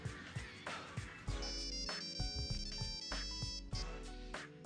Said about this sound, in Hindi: शिवानी फोन उठाओ ना